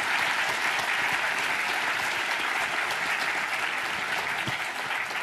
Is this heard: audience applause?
yes